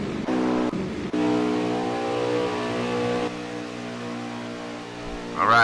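Engine of the number 9 Hendrick Chevrolet stock car in an Auto Club qualifying run in a racing video game: a loud, steady onboard drone at high revs, dipping briefly at gear changes, then rising sharply at the end.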